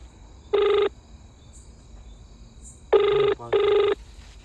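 An old-style telephone rings in three steady buzzing bursts, one then a pair after a pause, clear and close over a quiet background with faint insect-like hiss.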